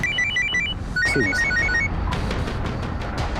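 A telephone rings with a rapid warbling electronic trill in two bursts over steady background music and ambience, followed by faint clicks in a Hindi crime drama scene.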